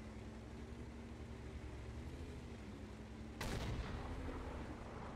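A tank cannon in a tank combat game fires a single sharp, booming shot over a steady low engine hum, followed by a brief rumbling tail.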